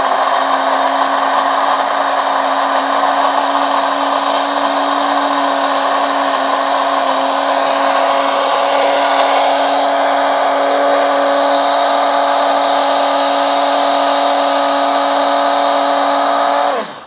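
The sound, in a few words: KitchenAid blade coffee grinder grinding coffee beans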